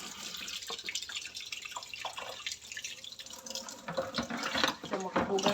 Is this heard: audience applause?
no